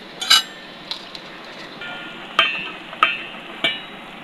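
Kanjal bhaji being stirred in a frying pan, with a handful of sharp metallic clinks and scrapes from the utensil against the pan over a low background hiss.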